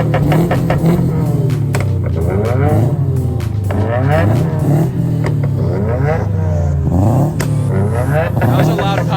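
Supercar engine revving hard in repeated bursts, rising and falling pitch with sharp loud exhaust pops and crackles between revs, close and dominant over the whole stretch.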